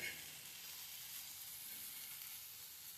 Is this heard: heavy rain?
no